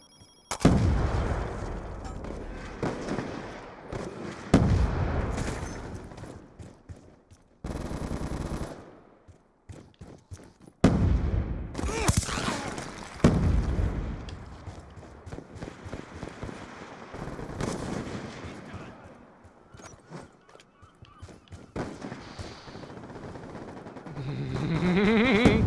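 Sustained bursts of automatic weapon fire in Black Ops 2 online play crackle loud and near, broken by brief pauses and scattered heavier shots across a long stretch of combat.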